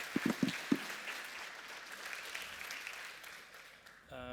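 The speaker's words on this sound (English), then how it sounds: "Big round of applause for Dimitri." Applause from a crowd at the opening of a PyData Eindhoven 2025 data conference greets a volunteer organizer, a few sharp claps at the start then a steady, moderately distant wash of clapping that fades before a brief sound at the end.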